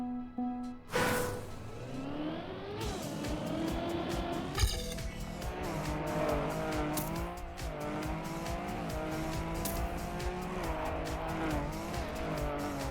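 Elk car racing in the video game Trackmania, a continuous high-revving engine whine rising and falling with gear shifts, punctuated by repeated sharp tire squeals and skids, loud and alone without talking.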